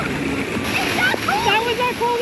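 Water splashes and churns at a water park lazy river as a person drops in, with excited voices shouting over the continuous rushing and spattering.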